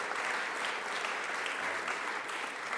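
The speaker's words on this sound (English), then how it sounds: "Give her a round of applause" A crowd applauds steadily and loudly, a dense wash of clapping that holds for a few seconds.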